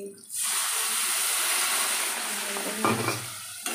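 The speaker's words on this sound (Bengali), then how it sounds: "মাছটাকে কষানো হয়ে গেল" Fish coated in spice masala of turmeric, chili and cumin powder sautés in a pan, giving a loud continuous hissing sizzle with a few scraping stir sounds near the end.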